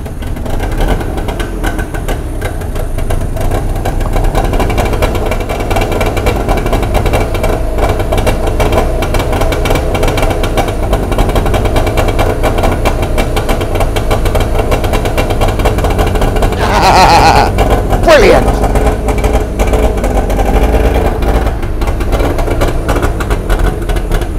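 An old motor that sat unused for many years runs steadily at idle, a loud continuous rumbling engine drone with a brief mechanical clunk partway through, no talk.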